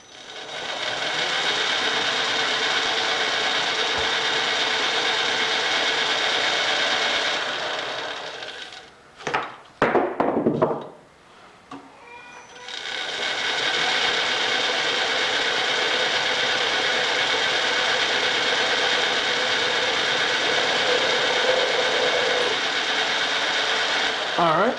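Center drilling a metal part on a lathe for a pinch sleeve: a steady, loud, broadband grinding whir runs for several seconds, breaks off into a few irregular clunks and a short lull, then resumes just as steady to the end.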